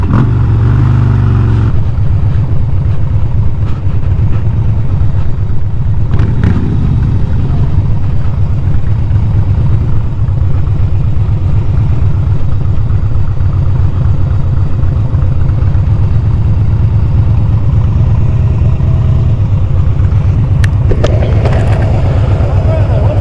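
A Harley Davidson motorcycle engine rumbles while riding, as a loud, steady, low throbbing drone with wind buffeting. It runs close throughout, with faint voices and short bursts of talk over it.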